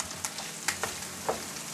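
Bacon fries in a pan with a steady crackling sizzle, broken by several sharp pops and spits of fat, close and continuous without talking.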